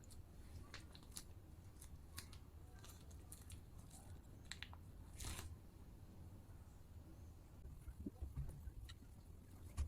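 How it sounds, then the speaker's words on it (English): Stem of a balloon flower being snipped for an LED balloon rose bouquet, a few faint, brief clicks and snips over a quiet room background, with no speech. "So we will cut the flower stem from here."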